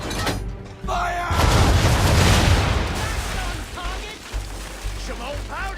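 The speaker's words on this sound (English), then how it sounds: "Now, aim all guns at her bow and do as much damage as possible." Ship cannons fire in Assassin's Creed 3 naval combat, a heavy booming blast rolling out loud and close, with game voices talking around it.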